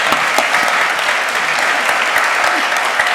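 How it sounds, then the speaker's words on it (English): Dense, steady applause from a campus audience thanking visiting guests, a full wash of clapping sustained evenly throughout at a moderate distance. "A round of applause for them as well."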